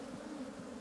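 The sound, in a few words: honey bees buzzing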